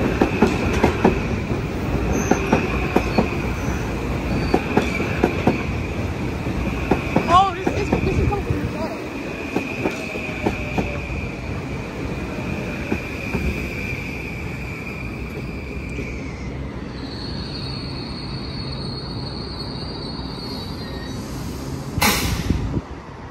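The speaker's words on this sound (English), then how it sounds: "Train." A train rolls past at Stamford station with rumbling wheels and rhythmic clatter, a long high squeal along the rails, then fading away.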